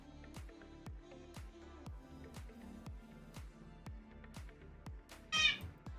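A cat lets out one sudden, loud meow near the end, over a quiet, steady rhythmic beat of background music.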